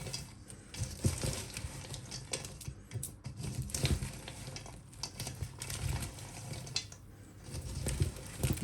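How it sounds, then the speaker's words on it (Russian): Hot syrup is poured over chak-chak noodles and stirred fast, making soft, irregular sticky clicks and rustles of the pieces being tossed, faint and close. "Теперь горячий сироп вливаем в лапшу и быстро перемешиваем"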